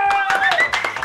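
Several sharp claps from a small podcast studio audience welcoming a guest, heard in uneven bursts under overlapping vocal sounds.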